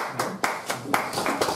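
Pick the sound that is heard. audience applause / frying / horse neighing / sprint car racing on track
audience applause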